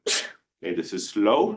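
A single short sneeze bursts out in a lecture hall, loud and close, followed by a pause and then the lecturer resuming speech.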